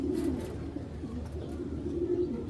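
Racer pigeons, tossed race birds from 2025, coo steadily in a loft, their low throaty calls rolling continuously and close by with no talking.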